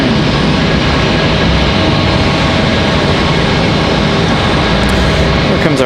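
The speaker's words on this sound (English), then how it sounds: "Here comes our JetBlue from San Juan, Puerto Rico" A JetBlue airliner from San Juan, Puerto Rico arrives at Raleigh-Durham, giving a continuous loud jet rumble with no breaks.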